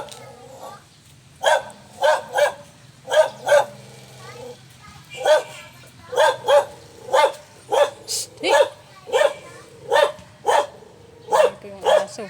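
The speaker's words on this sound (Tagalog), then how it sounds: "Maingay yung aso." A dog barks repeatedly near a neighborhood school, loud close barks often coming in quick pairs with short gaps between bursts, over a faint background hum.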